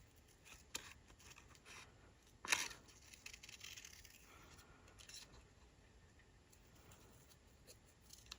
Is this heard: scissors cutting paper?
yes